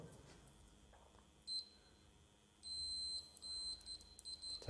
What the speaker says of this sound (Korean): 자, 부저 테스트.